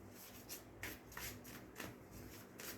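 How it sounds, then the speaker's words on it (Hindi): Soft shuffling and sliding of tarot cards drawn from a deck, quiet close rubbing with a few light slaps, faint and continuous. "I'll take only 2 cards from this deck"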